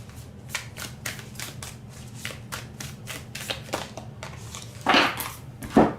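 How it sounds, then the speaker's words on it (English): Tarot cards shuffled by hand in a steady run of crisp riffling bursts, close and fairly loud over a low background hum, with two sharper, louder shuffles near the end. "All that shuffling."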